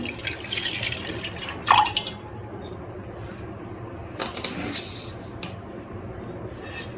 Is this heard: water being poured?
yes